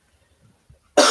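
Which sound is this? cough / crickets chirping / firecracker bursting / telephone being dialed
cough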